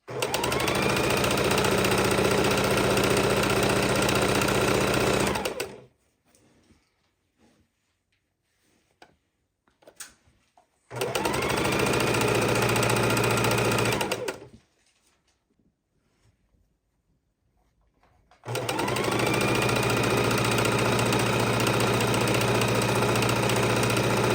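A sewing machine stitches long jelly roll strips for a quilt in three sustained loud runs of steady whirring, separated by quiet pauses.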